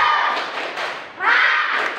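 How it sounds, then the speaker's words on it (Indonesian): A classroom of students performs a rhythmic spirit clap together, a dense burst of many hands clapping in a steady pattern that swells again halfway through, loud and close. "Kita tepuk semangat dulu ya"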